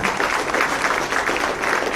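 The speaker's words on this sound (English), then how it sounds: "So a round of applause to everyone who are going to get awards" Steady applause from a crowd at a corporate long service awards event, dense clapping filling the room at an even level throughout.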